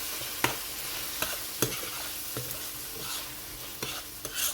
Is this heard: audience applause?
no